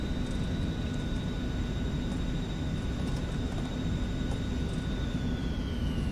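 Steady, continuous drone of aircraft engines in the X-Plane flight simulator game, a dense broadband roar with a faint high whine running unbroken throughout.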